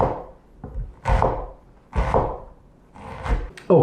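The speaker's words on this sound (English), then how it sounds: "that's the onion chopped" Knife chopping an onion on a cutting board, four or five distinct close thuds with scraping spaced about a second apart, no talking.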